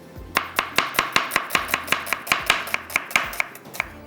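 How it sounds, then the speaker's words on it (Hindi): An onion being chopped with a knife on a cutting board: about seventeen crisp, evenly spaced chops in a steady rhythm, close and clear with no talking. "अब मैं प्याज को कटिंग कर लेती हूँ"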